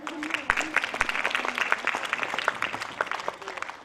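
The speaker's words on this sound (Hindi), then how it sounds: "हम जोरदार तालियों से स्वागत भी करते हैं" Audience at an inauguration ceremony for a Brahma Kumaris center in Nangloi, Delhi, breaking into loud, sustained applause, a dense patter of many hands clapping close by for several seconds.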